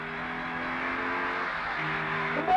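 A car engine holds a steady, humming drone as it is driven fast, close and continuous, with a slight rise in pitch and a brief bump near the end.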